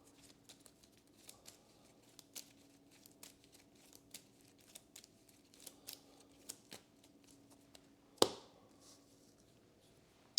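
Game cards from a Kingdom Death Monster board game deck being handled and shuffled, a run of soft irregular riffling snaps and taps, quiet and close, closing with a louder rustling burst.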